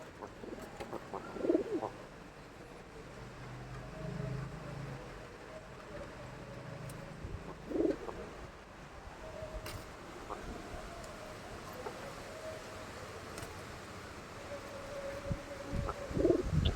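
Pigeons coo softly in short rounded bursts spaced several seconds apart at a loft, against quiet background murmur and faint distant noise.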